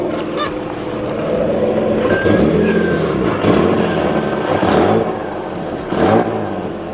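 A turbocharged Nissan 350Z with an exhaust leak revs in a few rising and falling surges, loud and close, with a harsh raspy edge over a steady idle.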